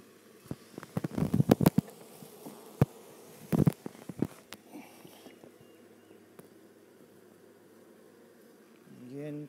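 Honey bees buzz around an open hive during an inspection while frames of foundation are handled. Scattered clicks and knocks from the frames and boxes break the buzzing, and a louder hum rises at the end.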